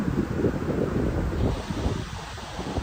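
Rushing river water roars steadily nearby, a dense low churning rumble mixed with wind buffeting the microphone, at Larcha bridge near Tatopani, Nepal, with water flowing down from Bhairav Kunda.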